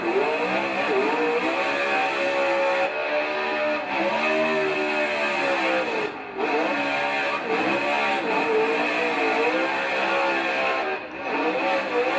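A Ford Mustang RTR V8 drift car, built for Drift Masters, drones steadily at sustained revs with rising and falling pitch sweeps and brief dips, loud and continuous throughout with no talking.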